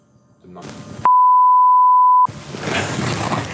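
A steady electronic beep from a Palmer Pocket Amp MKII guitar amp, a single sustained pure tone lasting just over a second, loud and clean, with sound before and after it.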